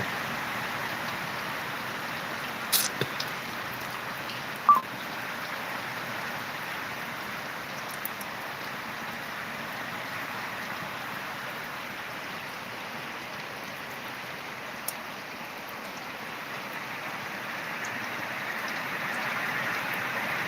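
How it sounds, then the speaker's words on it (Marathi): Steady rain falls in a village, an even wash of hiss with a few brief louder ticks and drips, no voices over it. "हे बघा अशा पद्धतीने पाऊस पडतो"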